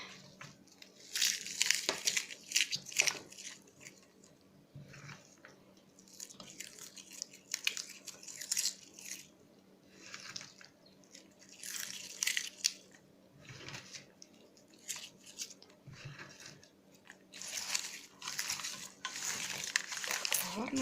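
Sliced onions tossed and mixed by hand into raw shashlik meat, with soft wet squishing and crinkling bursts in an uneven rhythm, close and quiet, with a low background hum.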